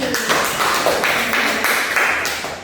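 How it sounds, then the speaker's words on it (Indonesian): A small language class gives brief applause, light scattered clapping lasting a couple of seconds, with voices mixed in. "berikan tepuk tangan untuk tadi"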